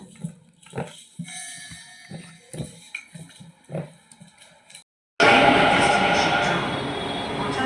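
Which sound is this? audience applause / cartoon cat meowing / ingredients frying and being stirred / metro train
metro train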